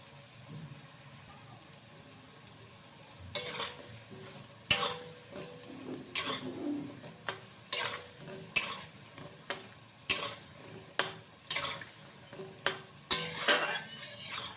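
Coriander leaf fritters frying in oil and being turned, with a steady sizzle and repeated scraping stir strokes against the pan coming in rhythmic bursts, close and fairly loud.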